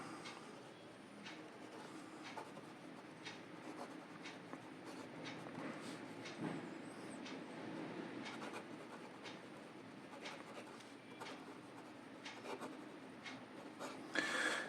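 Scratchy, steady strokes of a Moonmoon Wancai Mini fountain pen nib writing in reverse on paper, close and continuous with small ticks between letters, with no voices.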